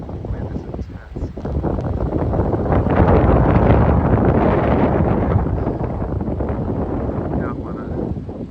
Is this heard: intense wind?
yes